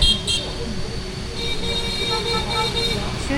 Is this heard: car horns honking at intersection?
yes